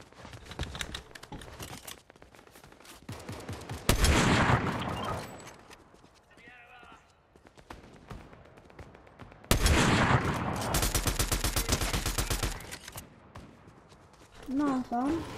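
Sniper gunfire and other shots in a Fortnite match ring out in bursts of sharp cracks and rapid volleys, loud and close, with a player talking over parts of it.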